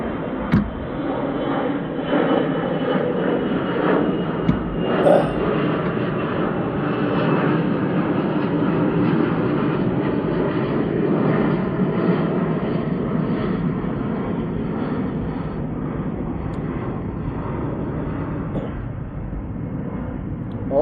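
Several airplanes fly overhead with a loud, continuous broadband roar that holds steady for the full stretch, with no voices over it.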